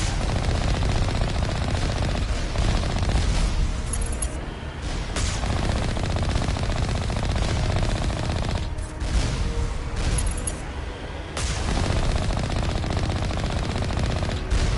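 Turrets rattle off sustained rapid fire in Mass Effect, a dense, loud, continuous barrage of gunshots that breaks only in a few brief gaps.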